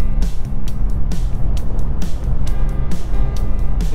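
Steady engine and road rumble from inside a car driving over Buttertubs Pass in the Yorkshire Dales, a loud continuous drone with no talk.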